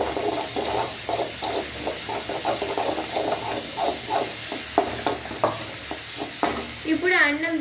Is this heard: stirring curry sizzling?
yes